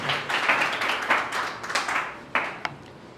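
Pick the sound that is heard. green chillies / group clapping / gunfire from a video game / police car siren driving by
group clapping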